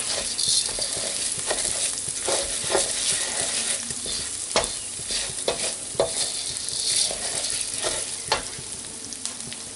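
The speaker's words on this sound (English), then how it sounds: "So I'm going to stir in the rice, and we need to cook this for 1 minute. Stir to coat it, all the grains with the oil." Risotto rice frying in oil for mushroom risotto, heard as a continuous close sizzle with frequent scraping, clicking stir strokes of a spoon through the grains against the pan, steady and fairly loud without any talking.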